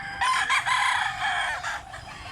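A rooster crows once in a single drawn-out call, close and clear, with no talking over it.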